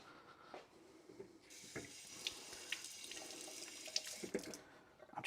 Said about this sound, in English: So let's give this a quick rinse.